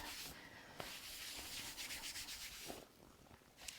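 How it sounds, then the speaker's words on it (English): Hands rub briskly over a person's back during a seated Thai yoga massage, giving a soft, continuous brushing friction with a few light knocks, close and quiet, with no talking. "one of the first things we do to the back is just rub to create some heat"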